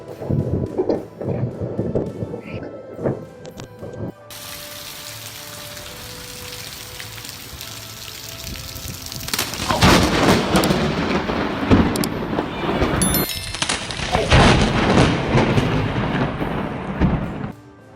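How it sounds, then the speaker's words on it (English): A lightning strike hits the ground just meters from a gardener, and heavy thunder follows as a long, loud rumbling crash that swells and rolls on over steady rain during a storm. "lightning struck the ground just meters from a gardener"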